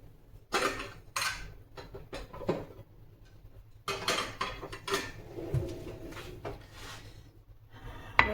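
Squares of instant barfi are moved onto a plate, with irregular clinks, scrapes and taps of utensils against dishes, close and fairly quiet, separated by short pauses and with no talking.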